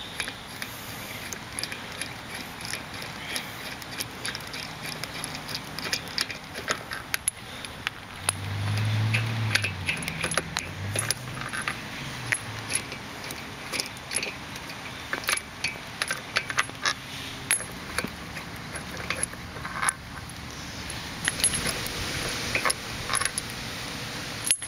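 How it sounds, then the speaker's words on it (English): Lug nuts being loosened from the wheel of a 2005 VW Touareg raised on jack stands, heard as repeated mechanical clicking and ratcheting with scattered metallic clinks over steady background noise, with no talking. "Next is take the lug nuts off."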